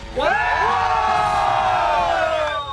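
A crowd of LAFC supporters cheers and whoops in a loud sustained burst after the MLS Western Conference Final win against Austin FC, voices rising together and then tailing off.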